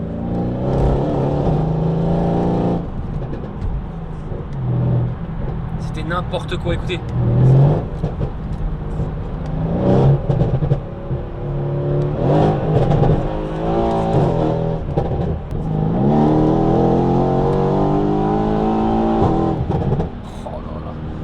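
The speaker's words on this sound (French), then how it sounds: "Je sais pourquoi j'avais acheté cette voiture et j'avais mis cet échappement, écoutez-moi ça" Loud V8 car engine fitted with an aftermarket exhaust, revving repeatedly in bursts and droning close by, with someone talking over it throughout.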